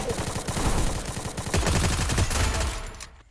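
Rapid bursts of automatic gunfire in a shooting video game, dense clattering shots fired in quick succession and loud throughout, with no talking.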